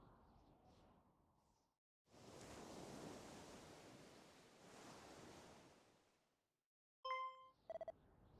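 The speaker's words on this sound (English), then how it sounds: "I hear waves." Ocean waves in the Dragon Quest I & II HD-2D Remake video game swell and wash in soft hissing surges, two broad waves rising and fading, followed by brief electronic menu beeps.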